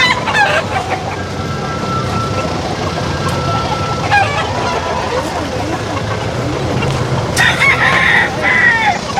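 Chickens and a rooster crowing at an illegal roadside parking spot, clucking and crows layered over steady street noise, with people talking nearby while cages are being removed.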